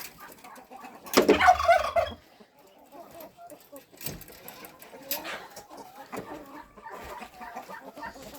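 A broody hen in a Ukrainian farmyard clucks in a loud burst near the start, then fainter, scattered clucks and rustling follow while someone talks.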